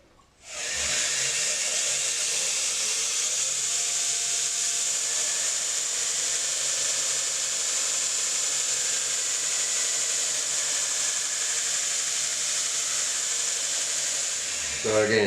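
A 120 grit Hermes abrasive belt runs on a belt grinder while a knife blade is ground against it, giving a loud, steady hiss and whir that starts abruptly and holds for about fourteen seconds before easing off.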